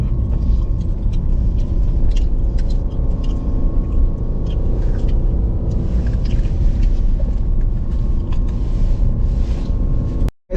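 A car engine labours up a steep high-altitude mountain incline in second gear on the road toward Photi La and Umling La, a heavy, continuous low rumble that strains without letting up and ends with a brief sharp dip.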